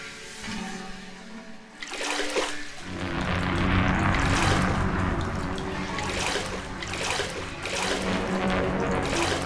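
Water pours and splashes from a bucket, opening with a soft trickle and then turning into a loud, sustained gushing and sloshing.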